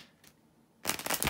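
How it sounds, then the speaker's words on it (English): Tarot cards being shuffled during a reading, a short quiet pause followed by a brisk, close riffle of cards lasting about half a second. "bear with me a second, guys, to shuffle the tarot cards"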